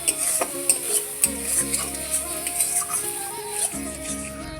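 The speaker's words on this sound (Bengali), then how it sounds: "আমার জল শুকিয়ে গেছে ভালোভাবে একটু ঘেটে নিচ্ছি" Taro leaves cooked down with a hilsa fish head being stirred in a pan, giving repeated scraping and clinking strokes over a soft sizzle, close and fairly loud.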